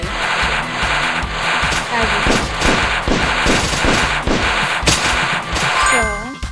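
Missiles fire repeatedly in the mobile zombie-survival game Survivor.io, giving a loud, dense stream of rapid shot-like bursts and metallic clangs over a busy, continuous game soundtrack.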